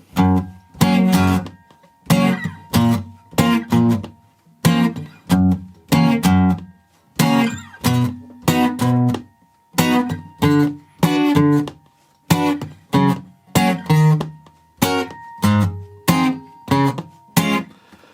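Plucked guitar notes and chords of the intro to a song ring out in short repeated phrases with brief gaps between them, played alone and up close.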